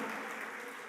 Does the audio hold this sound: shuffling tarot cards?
no